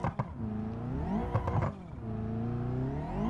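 A hot-rodded engine swapped into an ordinary car in BeamNG Drive revs up and down in smooth rising and falling sweeps, with a couple of brief clattery bursts, heard fairly close and alone with no talking.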